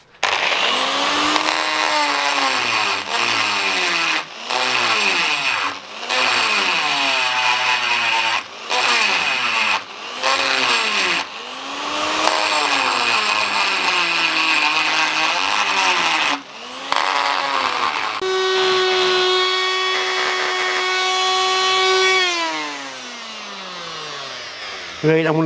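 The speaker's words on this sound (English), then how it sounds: "I need to grind some of that out and then just blend those bits in" A power grinder cutting a recess into a cast iron bearing cap: a loud whining rotary tone that repeatedly swoops up and down in pitch as the tool bites, ending in a steadier high whine before spinning down.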